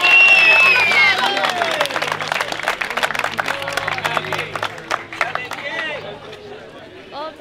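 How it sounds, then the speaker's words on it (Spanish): Crowd applause and cheering at a song battle quarterfinal, lively clapping and shouts filling the room under an announcer's voice, the sharp claps continuing steadily throughout. "quiero que reciba con un fuertísimo aplauso"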